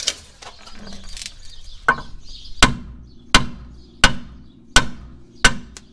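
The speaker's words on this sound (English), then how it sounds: "we are gonna have to hit it with a hammer" Sharp hammer blows ring out one after another on metal, about one per second, loud and close, each with a brief metallic decay, knocking out a Ford Ranger bump stop.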